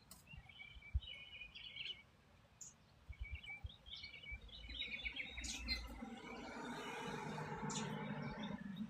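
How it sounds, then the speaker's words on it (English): Small bird chirping nearby outdoors: faint, scattered short tweets over a steady low background rumble, with no talking. "There's a little bird that landed by me."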